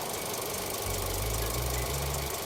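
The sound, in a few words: Mitsubishi Xpander engine running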